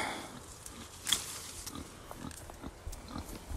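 Pigs grunt softly in short, low bursts, close by but faint, with an outdoor hiss and a few scattered rustles in between.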